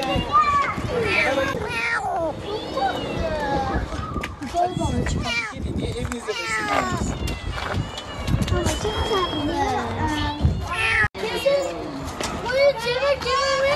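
A kitten meows repeatedly in a residential complex, where it was left beside its mother cat. The high, wavering cries come close and fairly loud, mixed with and partly under steady talking from several people.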